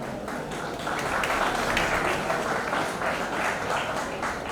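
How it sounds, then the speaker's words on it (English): Steady applause from a large crowd fills the space, continuous and even throughout, with no voices standing out. "a big round of applause for all of you"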